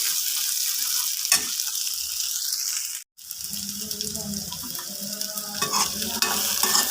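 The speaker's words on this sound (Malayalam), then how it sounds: "അതിനുശേഷം നമുക്ക് വെന്ത് വെച്ചിരിക്കുന്ന ചക്കക്കുരു ഇട്ട് കൊടുക്കാം ഒരു ഇളക്കി ഇളക്കുമ്പോൾ എല്ലായിടത്തും ഒന്ന് വരട്ടെ" Boiled jackfruit seeds are stirred in a frying pan, giving a bright hissing sizzle with repeated spatula scrapes. The sizzle drops out for a moment, then returns with close, busy stirring.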